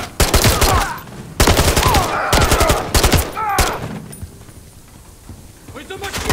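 Gunfire in the video game Call of Duty: Modern Warfare III, loud bursts of shots in the first half amid shouted talk, then quieter battle ambience.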